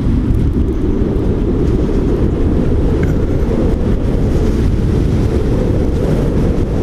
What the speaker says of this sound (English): Let's go full throttle.